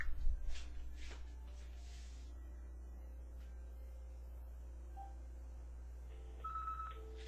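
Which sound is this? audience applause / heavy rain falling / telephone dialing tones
telephone dialing tones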